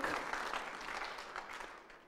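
A church congregation claps together in praise for Jesus, a fairly faint, continuous wash of hand claps with no voices over it.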